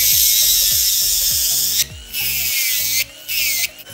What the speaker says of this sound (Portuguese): Vou lixar a pontinha.